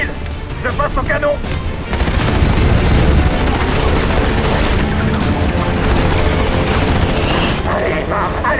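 Loud, continuous rapid aircraft cannon fire roars on for several seconds, dense and booming, with shouting voices mixed underneath.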